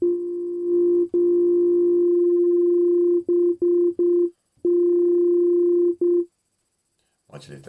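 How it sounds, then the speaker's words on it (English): Synthesizer sine wave tone with FM synthesis, a steady sustained pitch with overtones that swells and bends midway, then cuts into short stuttering gated bursts before resuming and stopping, ending in a brief noisy burst. "Now let's add some FM synthesis."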